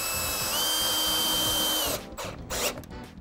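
A power driver whines at high speed as it sinks a SPAX Phillips-square screw into wood without pre-drilling, then cuts off into short spurts and a few final bursts.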